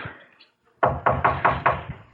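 Firm knocks on a door in a radio mystery drama, five loud raps in an even sequence after a brief quiet stretch, with no voices over them.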